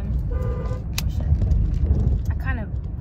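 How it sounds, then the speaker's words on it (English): A car horn gives one short toot from inside the vehicle while people talk over a low engine and road rumble. "I kind of honked on accident."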